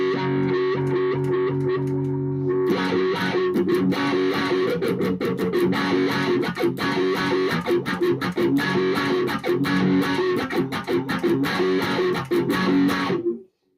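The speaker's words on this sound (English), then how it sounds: "You can kind of hear the change in sound throughout the whole pedal. And so even with some distortion," Guitar played through a repaired wah pedal with distortion, starting with a sustained chord, then rapid strummed chords with the sweeping tone shifting, loud and continuous until a sudden stop.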